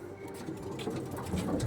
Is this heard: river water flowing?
no